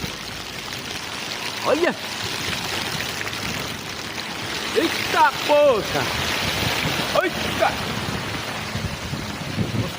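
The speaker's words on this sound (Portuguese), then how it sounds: "E agora chegou a chuva, meu povo. Com uns pingão grosso, rapaz, gelado, hein?" Heavy cold rain with large, thick, near-icy drops pours down in a steady, enveloping hiss, while a nearby voice lets out a few short exclamations over it.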